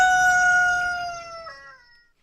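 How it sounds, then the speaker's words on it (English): A rooster crows once in a single drawn-out, falling cock-a-doodle-doo, loud and close, with a brief upward break near the end before it fades out, heard alone with no talk. "and the rooster says..."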